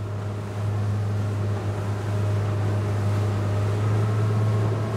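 Steady engine drone and broadband rush of water and wind from a 2021 Saxdor 200 Sport open motorboat running at about 18 knots over a couple of waves, loud and continuous throughout.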